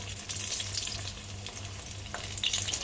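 Sausage hot dogs frying in hot oil give a steady close crackle and sizzle throughout, with a low bubbling undertone and no talking.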